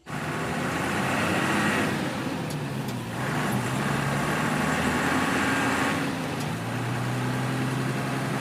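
A truck engine drones steadily while driving, with continuous low road rumble and traffic noise throughout and no voices.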